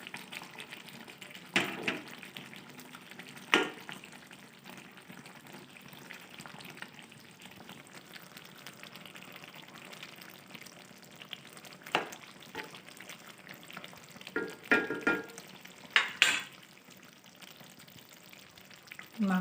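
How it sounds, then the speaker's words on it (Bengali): Meat cooks late at night in a pan with a soft, continuous sizzle. Sharp clatters and scraping stirs break in every few seconds, clustering toward the end, and there is no speech. "এত রাত্র অবধি মাংস রান্না করেই যাচ্ছি"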